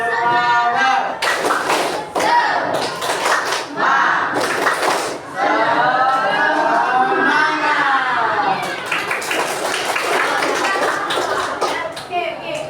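A classroom of students performs a rhythmic clapping chant, sharp hand claps in steady patterns mixed with loud group chanting voices, close and energetic throughout.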